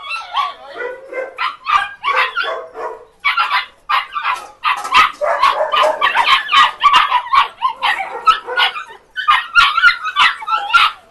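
Many dogs bark at a kennel, a loud continuous chorus of overlapping barks, yips and whimpers, close and alone.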